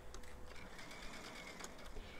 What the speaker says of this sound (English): I'm gonna back stitch over where I stitched before.